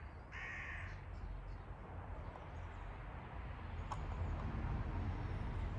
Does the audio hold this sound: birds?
yes